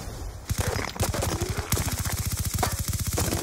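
Rapid bursts of PDW submachine gun fire in a first-person shooter, sharp evenly spaced shots in several long automatic strings, loud and close with brief pauses between bursts.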